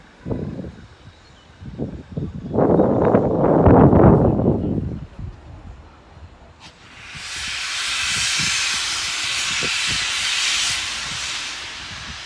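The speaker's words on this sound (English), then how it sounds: "Gotta love a good steam locomotive in action. Steaming away and puffing away like a absolute beauty." A steam locomotive at Paignton vents a loud, steady hiss of steam that sweeps in partway through and continues unbroken, following an earlier burst of rumbling noise from the engine.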